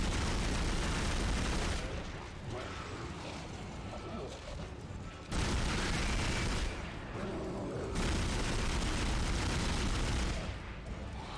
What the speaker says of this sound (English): My ears are kind of, like, going a little numb with this amount of gunfire.